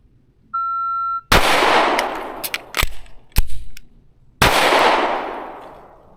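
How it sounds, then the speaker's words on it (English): Canik Prime pistol fires during a draw-and-reload drill: a timer beep, then a loud shot, a few sharp shots and metallic clacks, and a final shot with a long echoing decay, close and with no talking. "At low ready, draw, reload, and fire"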